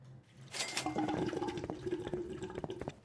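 Toilet flushing in Finnish Pub Simulator, a close, fairly quiet rush and gurgle of water lasting a few seconds with swirling, dripping detail as it drains.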